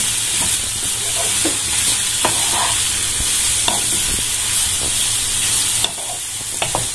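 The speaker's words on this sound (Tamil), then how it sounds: "நல்லா வதக்கலாம், நல்லா ஆயிலே வதக்கணும் ஃப்ரெண்ட்ஸ்" Mango and ginger pieces sauté in hot oil for a pickle, giving a steady loud sizzle with occasional scraping stirs of a spoon against the pan, heard alone without talk.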